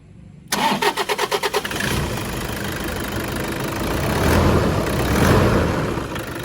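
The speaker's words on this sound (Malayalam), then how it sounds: "എൻജിൻ സൗണ്ട്, അതുപോലെ തന്നെ സെൽഫ് സ്റ്റാർട്ടിങ് സൗണ്ടൊക്കെ ഒരു ഹൈലൈറ്റ് ആയിട്ടുള്ള കാര്യമാണ്" A modified Toyota Innova diesel engine cranks with a quick burst of rhythmic starter pulses, catches, and settles into a loud, close, steady idle that swells slightly as it revs.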